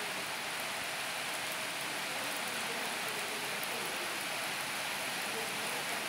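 Heavy rain falls steadily outside at night, a dense, even hiss of countless drops on surfaces that stays constant and fairly close throughout with no voices.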